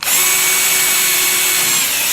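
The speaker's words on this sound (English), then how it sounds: "you can drill holes through the plastic lid" A reversible two-speed drill spins at its fast setting, giving a loud, steady, high motor whine that runs unbroken and alone from start to finish.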